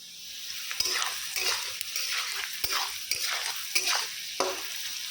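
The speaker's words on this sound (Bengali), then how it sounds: "বরবটিটা দিয়ে দিচ্ছি, ভাজা ভাজা হয়ে যাচ্ছে" Long beans frying and being stirred in a pan while soybean chow mein is cooked, a steady close sizzle broken by several sharp scraping stirs over about five seconds, with no talk.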